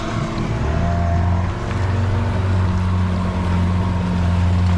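Outboard motor boat pulling away under heavy throttle, its engine droning loud and steady with a rising, throaty hum over rushing water, close and continuous throughout.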